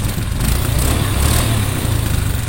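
A Honda Scoopy scooter engine runs smoothly and steadily after servicing, a loud, close, continuous hum with no talk over it.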